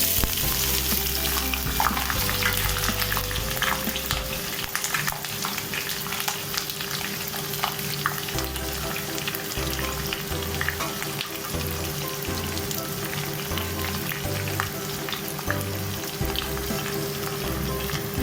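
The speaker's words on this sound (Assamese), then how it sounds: "কাটি ৰখা পিঁয়াজখিনি ঢালি দিছোঁ।" Chopped onions fry over medium flame in a pan for Assamese-style duck curry, a loud, steady sizzle with constant crackling close by, continuing unbroken throughout with no speech.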